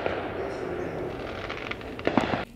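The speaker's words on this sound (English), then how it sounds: "someone over there is shooting off some fireworks" Distant fireworks pop and crackle outdoors, a few faint bursts late in the clip over a steady background hiss.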